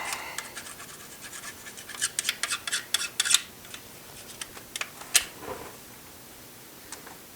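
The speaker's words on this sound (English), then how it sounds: "I don't really feel like scraping anymore" Old gasket material scraped off a TSI engine before a timing cover is fitted makes a run of quick, gritty scratching strokes, clustered in the middle and then thinning out into scattered faint scrapes.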